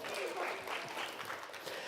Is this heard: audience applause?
yes